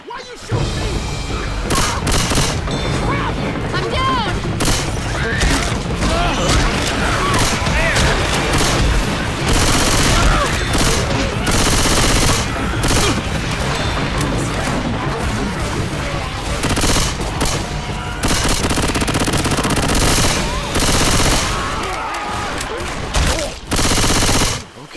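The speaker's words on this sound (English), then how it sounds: "Why are you shooting me?" Dense, continuous gunfire from Left 4 Dead 2 on the Last Stand map in Realism Expert mode, with rapid bursts and heavy booms running loudly almost the whole time with no pause.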